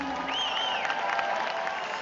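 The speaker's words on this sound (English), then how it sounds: "Let's give them one last round of applause." An audience at a Miss Universe preliminary swimsuit competition applauds the contestants with steady, moderately distant clapping and some crowd cheer. A whistle-like tone glides over the top early on.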